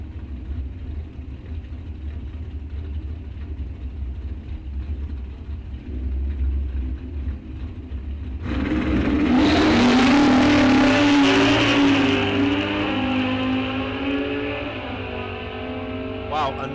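At Rock Falls Raceway, drag race cars including a Suzuki and a 1970 Chevelle idle before a sudden loud launch surges into a roaring, revving run, with an announcer's voice heard over the engines.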